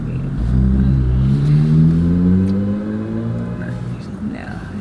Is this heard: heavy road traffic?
yes